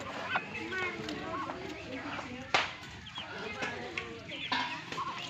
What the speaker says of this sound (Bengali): অনেকগুলো চীনা হাঁস আছে।